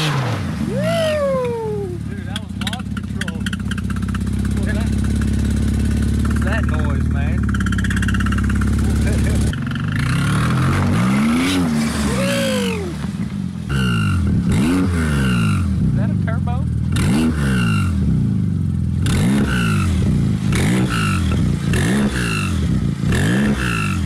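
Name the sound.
Porsche Turbo engine accelerating on a test drive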